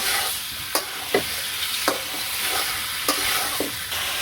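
Meat fries in a pan for a village-style home meal: a steady, bright sizzle runs throughout, broken by several sharp scraping stirs spaced about a second apart, close and with no talking.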